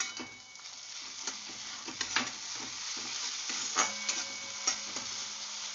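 Mustard paste, ground with salt, stirred into hot oil with onions, frying with a steady close sizzle and repeated scraping strokes of a spatula against the pan.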